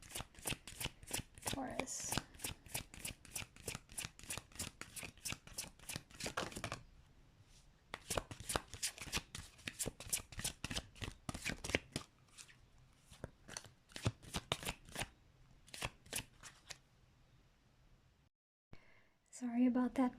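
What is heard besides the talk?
shuffling tarot cards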